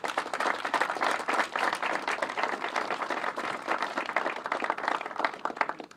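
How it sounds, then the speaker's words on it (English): An audience at an airport expansion announcement at Tweed New Haven Regional Airport breaks into steady applause, a thick wash of many hands clapping at moderate volume for six seconds without speech. "they do deserve a big round of applause"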